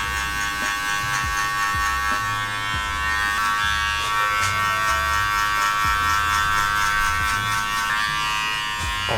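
Hair clippers fitted with a 1 guard buzz steadily while cutting a bald fade, a close, continuous electric hum with small shifts in pitch as the blades pass through hair.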